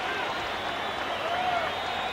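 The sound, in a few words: crowd ovation at a boxing match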